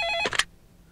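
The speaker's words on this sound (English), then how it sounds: "Oh, Grandma, but the phone's ringing." A telephone rings with a short electronic tone, and a brief burst follows before it cuts off abruptly into near silence. The sound is close and clear.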